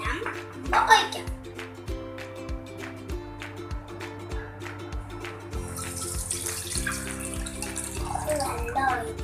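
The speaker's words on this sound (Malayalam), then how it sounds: "നമുക്ക് ഷുഗർ സിറപ്പ് ഉണ്ടാക്കാൻ 1 കപ്പ് വെള്ളം ഒഴിക്കാം." A cup of water pours into a pan to start sugar syrup for gulab jamun, a steady running splash lasting most of the moment, while voices, including a child's, talk alongside.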